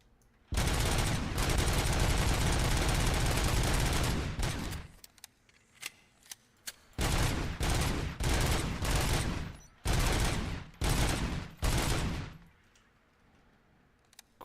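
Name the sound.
machine gun fire at a shooting range in the RoboCop video game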